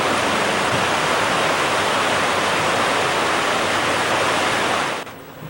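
Lewis Falls on the Lewis River pours in a dense, steady roar of rushing water, loud and unbroken, dropping away sharply near the end.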